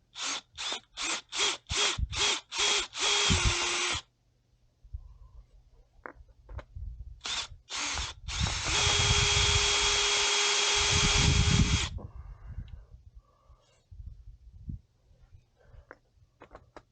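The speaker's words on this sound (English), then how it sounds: "grab the drill with the step down drill bit" A power drill fitted with a step-down bit bores into a Geo Tracker body during a body lift, running in several short loud bursts followed by one long sustained whine, with quiet shuffling pauses between.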